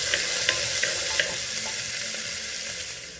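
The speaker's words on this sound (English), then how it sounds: "we have to cook these onions not until they are golden brown, but we have to cook them until they start drying a bit" Onions frying in a pan for mutton korma, cooked until just drying out, give a loud, dense, continuous sizzle with a few faint rhythmic clicks of stirring.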